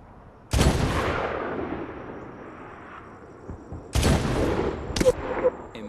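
Loud bursts of gunfire in the video game Medal of Honor: one heavy blast that decays slowly, then another burst of rapid shots a few seconds later, close and sharp, with faint talk underneath.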